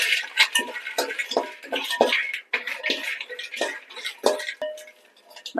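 Cashew nuts tossed and stirred in a pan as they roast, with scattered clinks and scrapes of a utensil against the pan, close by and without talking.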